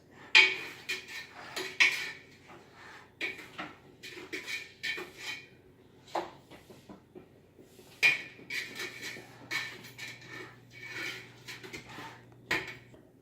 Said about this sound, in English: I'm just gonna start stirring it.